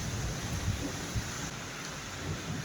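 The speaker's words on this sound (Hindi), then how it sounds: "यहाँ पर देहरादून में बारिश हो रही है।" Rain falls in Dehradun as a soft, continuous wash, faint and steady with low rumbling beneath, alone without voices.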